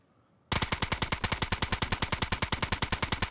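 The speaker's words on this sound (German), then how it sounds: "Ja, ich schieße das jetzt auf." Rapid automatic gunfire from DayZ while shooting a base open in Green Mountain, a loud, steady burst of evenly spaced shots starting abruptly after a brief quiet moment and continuing without pause.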